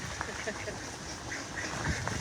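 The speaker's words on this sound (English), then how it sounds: "There's cheese duck for anybody that was worried about him. With all his ladies." Mallard ducks quack in short bursts amid steady outdoor background noise during Hurricane Idalia, moderately faint.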